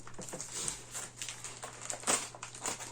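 A small Ukrposhta parcel package is unwrapped up close, with crinkling plastic and paper rustles in short irregular bursts over a faint steady hum, and no talk.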